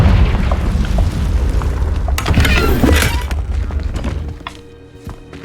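A Confringo blasting spell detonates in the Hogwarts Legacy video game, a loud booming explosion with a deep rumbling body and crackling bursts that swell near the middle and then fade into quieter game ambience.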